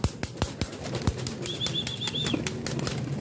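Pigeons burst into flight on release, several rapid flurries of flapping wings up close, with a brief high chirping call partway through and loose rustling around them.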